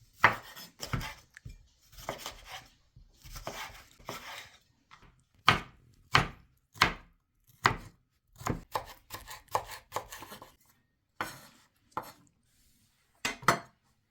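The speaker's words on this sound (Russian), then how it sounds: "1 большой свежий огурец нарезаем мелкими кубиками" Sharp knife chops a large fresh cucumber into small cubes on a cutting board, coming in irregular bursts of quick strokes with short pauses, close and crisp, no talking.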